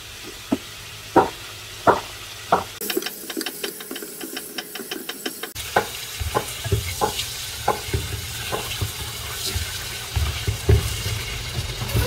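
Pork sizzles and fries in sesame oil with a pinch of salt, with spaced knocks of a utensil stirring the pan at first, then a steady crackling sizzle with frequent scraping stirs.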